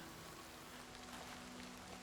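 Faint rainfall in a remastered fantasy role-playing game, a soft, even patter with a quiet steady hum underneath, low and unbroken.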